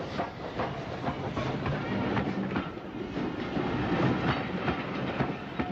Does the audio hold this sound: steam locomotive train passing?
yes